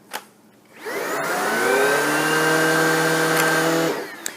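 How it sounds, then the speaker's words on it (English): Shark Rocket Pro cordless stick vacuum switched to its carpet setting, motor and brush rolls spinning up with a rising whine, then running loud and steady at close range for several seconds before cutting off. "Starts the vacuum and the brush rolls spin even faster."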